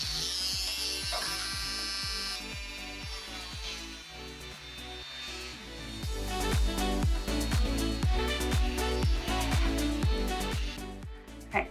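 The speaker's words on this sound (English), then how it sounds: "use the Dremel to drill a hole down through the piece" A Dremel rotary tool buzzes at high speed, drilling a hole through a clay piece with rapid, repeated clicking pulses, close and steady throughout.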